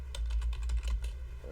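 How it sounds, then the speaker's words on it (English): Rapid typing on a computer keyboard during an online Dungeons & Dragons session: a quick, uneven run of close, crisp key clicks heard on its own, with no talking. "And by the way, Rob, I think we hear you typing"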